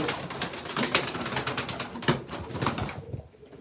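Several pigeons, lemon-spotted birds with balloon-like puffed crops, coo and rustle close by in a loft, a dense overlapping chorus that drops away abruptly near the end.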